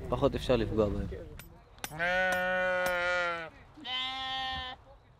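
Two long, wavering bleats from a nearby sheep in a herd on a West Bank hillside follow a brief stretch of talking, with a short pause between the calls.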